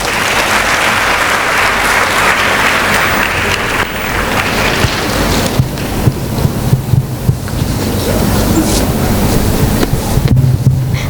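A large audience at a college event bursts into sustained, dense applause that fills the whole stretch, loud and steady without talk, easing slightly toward the end.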